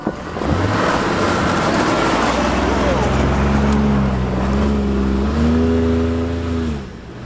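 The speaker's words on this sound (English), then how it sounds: "Let me show you the normal mode four-wheel drive acceleration between the cones." Ford hybrid pickup accelerating in four-wheel drive on snow, a loud continuous engine roar with tire and wind rush that climbs steadily in pitch and then eases off at the end.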